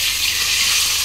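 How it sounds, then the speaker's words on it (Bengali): Spices sizzling in hot oil in a pan while cooking ginger, chillies and spices for kela paneer kofta, a steady close hiss and crackle of frying filling the whole second with no voices. "আপনারা এরকম করে ভাজবেন, এটা ছিটকাবে না গায়ে।"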